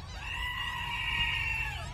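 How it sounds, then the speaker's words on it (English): A goat bleats in one sustained, wavering call lasting about two seconds, loud and close. "Gotta wait for the goat to finish before I cut the video off."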